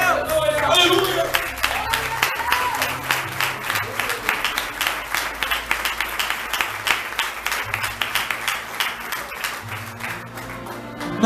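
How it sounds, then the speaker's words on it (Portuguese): Church congregation applauding during a sermon, a dense sustained wash of many hands clapping close and loud, with scattered voices and shouts mixed through the crowd. "Pare com as palmas."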